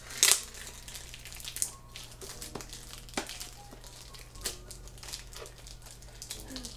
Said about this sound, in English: The packaging's hard to open.